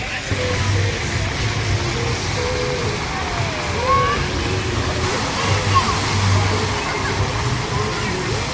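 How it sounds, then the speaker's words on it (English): Steady splashing and rushing water from a fountain at the center of an open eating area in Boise, Idaho, continuous throughout, with a murmur of people in the background. "At the center, we got a water fountain there."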